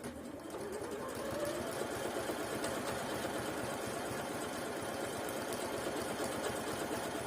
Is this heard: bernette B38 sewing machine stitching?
yes